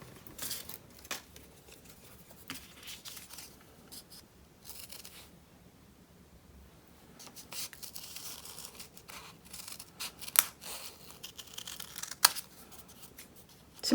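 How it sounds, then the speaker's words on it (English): Scissors cut out a paper Christmas tree card in a series of close, crisp snips and paper rustles, irregular and faint, with brief pauses between cuts and no talking. "And then you cut those out."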